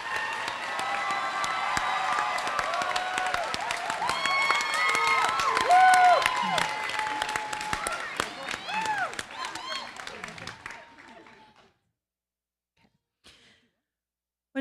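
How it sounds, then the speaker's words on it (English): An audience applauds nursing graduates at a spring pinning ceremony, with steady clapping and some cheers and voices in a hall, fading out after about eleven seconds to near silence. "please give a nice round of applause for our transition graduates"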